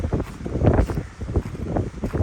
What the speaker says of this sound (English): It is exceedingly windy.